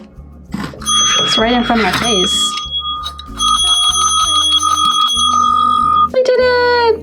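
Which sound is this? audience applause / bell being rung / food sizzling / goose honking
bell being rung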